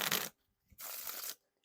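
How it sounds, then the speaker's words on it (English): Theory11 Spider-Man playing cards being riffle-shuffled and bridged, two crisp bursts of rapid papery flutter, the first short and the second longer, close and fairly loud with near silence between them. "these definitely wiffle shuffle and bridge shuffle nice and smoothly here"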